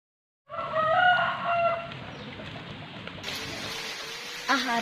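A rooster crows near a rice paddy, with a harmonic cock-a-doodle-doo call up front, followed by scattered clucking and farmyard fowl noises under a steady outdoor background hiss.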